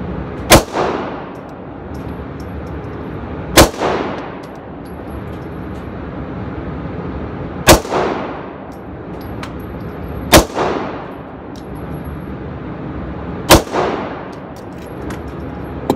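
Five sharp, loud Taurus PT1911 pistol shots fired at an outdoor range, spaced a few seconds apart, each with a crisp crack and a short echoing tail; no talking.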